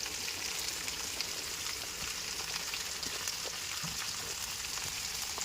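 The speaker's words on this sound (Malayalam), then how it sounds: "നമ്മൾ അരിഞ്ഞു വെച്ചിരുന്ന സവാള ഞാനിതിലേക്കൊന്ന് ഇട്ട് കൊടുത്തിട്ടുണ്ട്" Chopped onions frying in a pan for a coconut milk chicken curry, giving a constant soft sizzle and hiss at an even level with faint occasional ticks, no talking.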